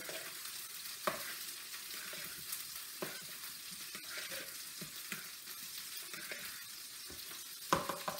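Rainbow sausages sizzle in a pan as they are stirred, a steady close frying hiss broken by a few scraping and knocking thumps from the utensil, with no talking.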